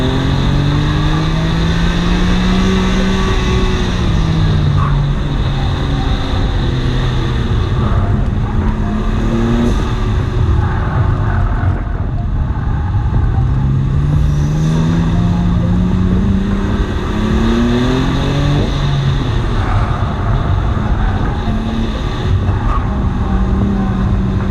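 A BMW F80 M3 racing on a track day roars loudly and continuously, its engine note rising through the gears and dropping with each shift and lift, repeated over and over without pause.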